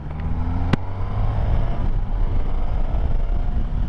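A 2022 Suzuki GSX-S1000GT+ motorcycle rides along twisty roads, its engine a steady low drone mixed with wind rush, loud and continuous, with one sharp click early on.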